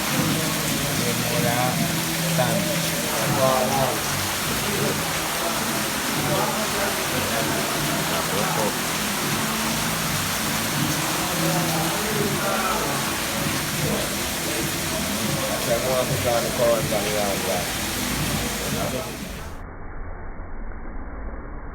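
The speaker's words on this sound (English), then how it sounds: "Rain fucking day today." A dense, steady hiss of heavy rain fills the whole stretch, with indistinct voices mixed in and a low rumble underneath, abruptly thinning near the end.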